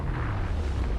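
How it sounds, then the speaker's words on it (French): A booming video game explosion, a dense low rumble that holds steady and loud for about a second with no pause. "À l'explosion comme top, c'est vraiment stylé."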